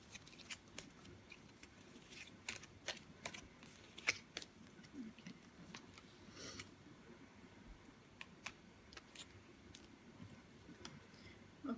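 Soft, irregular riffling and tapping of tarot cards being shuffled, close and quiet, in short bursts with small pauses between.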